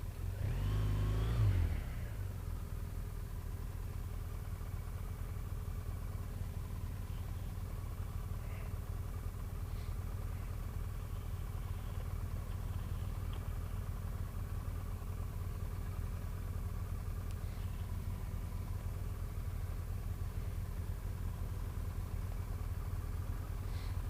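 A car engine runs steadily at a low idle throughout while reversing slowly into parking spots, with a faint rev at the start and no talk.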